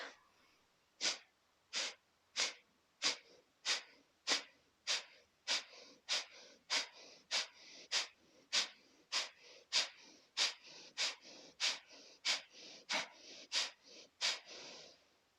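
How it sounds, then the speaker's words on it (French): Kapalabhati yoga breathing: a steady series of about twenty-three sharp, forceful nasal exhalations at a regular rhythm of roughly one and a half per second, close and clear with quiet gaps between, no talking. "C'est parti pour Kapalabhati. Je vous propose donc de rester les yeux ouverts et de fixer un point devant vous. C'est parti, on inspire."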